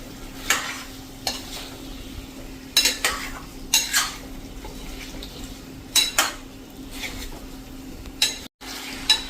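A spoon stirs potato bhaji in a pan over a medium flame, with irregular metallic scrapes and clinks over a soft, steady sizzle, fairly close and without talk.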